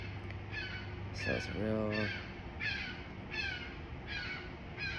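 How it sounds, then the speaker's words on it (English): Crows caw in short repeated bursts outdoors near Haines, Alaska, with several calls spaced across the clip, heard under and between people talking. "I'm hearing the crows."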